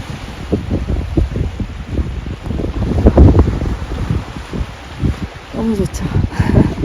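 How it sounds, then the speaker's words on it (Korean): Waves wash onto a white-sand beach at Samyang on Jeju Island, a continuous rushing surf buffeted by strong wind noise on the microphone, with someone speaking briefly near the end. "파도 소리 들어봐요."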